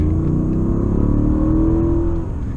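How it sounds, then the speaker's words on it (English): A Mercedes CL 63 AMG with its twin-turbo V8 accelerates hard, the loud engine note climbing steadily in pitch before easing off near the end, close and alone with no talking. "So now we'll get another view of what it's like accelerating."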